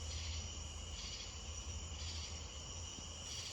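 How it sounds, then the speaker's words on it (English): Cicadas and other nighttime insects along a creek at very low water keep up a continuous, faintly pulsing high buzz over a low steady rumble, quiet and distant with no voices. "Just listen to the cicadas and all the nighttime insects."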